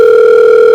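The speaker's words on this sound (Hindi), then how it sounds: "सर आपका फोन आ रहा है।" A phone tone sounds as a loud, steady electronic pure tone held without pause, close and alone, with no voices.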